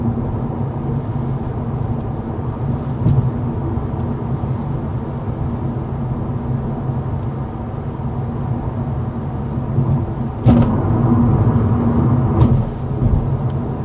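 Inside an Audi RS3 cruising at 55 mph, a steady low road and engine hum fills the cabin evenly, with faint tyre rumble and a few soft clicks and knocks over the drone.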